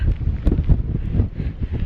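A big, cold gust of wind on muddy ground on the Isle of Skye, buffeting the microphone with loud, close, low rumbling roar that stays steady throughout.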